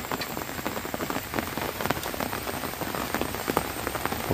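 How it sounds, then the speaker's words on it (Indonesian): Morning rain falls steadily in a village, a soft close patter of drops with scattered sharper taps, fairly quiet and continuous, with no voices. "pagi-pagi ya, hujan"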